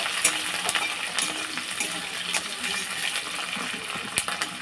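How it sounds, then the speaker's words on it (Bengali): Onions, garlic and green chillies for egg bhuna khichuri sizzle in a pan while being stirred. A close, steady crackle is punctuated by scraping spatula clicks, and nobody speaks over it. "আমি এইগুলো ভালোভাবে একটু নেড়ে চেড়ে ভেজে নিচ্ছি"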